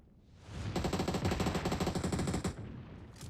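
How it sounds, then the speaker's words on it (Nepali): Rapid automatic gunfire in a shooter video game: a dense burst of rattling shots lasting about two seconds, loud and close, with a brief fading tail afterward and no voices. "बम बारुद हानिरहेछ"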